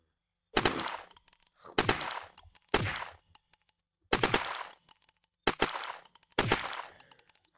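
A heavy-recoil weapon fires in the survival game Unturned. Six loud, separate bursts of rapid automatic fire sound close up, each trailing off into a short echo, with silence between them and no talking.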